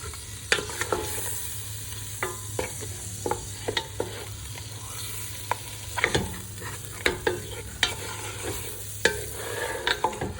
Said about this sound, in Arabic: غادي اللحيمه بعدا كنضيفو البصيله